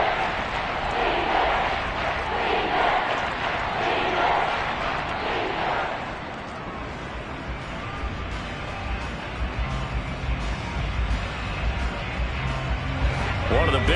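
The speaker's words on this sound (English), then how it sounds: "the crowd getting into it as we come up on a big 3rd down" Big roaring crowd at an American football stadium, loud and sustained, swelling with excitement ahead of a crucial third down, then settling into a steady rumble of cheering and chatter.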